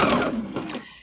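A sewing machine stitches a quarter-inch seam along the edge of a quilt block, giving a brief, steady mechanical whir up close.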